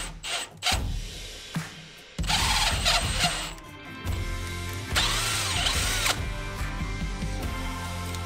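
A hand tap set cuts M10 1.25 threads deeper into bolt holes during an oil change on a fifth-generation 4Runner, giving ratcheting clicks and grinding metallic bursts in uneven close-up spurts with brief pauses.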